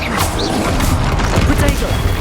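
Confringo explosive spells go off in Hogwarts Legacy combat as dense, loud bursts and crackling impacts amid continuous game noise, with a voice calling out spell names.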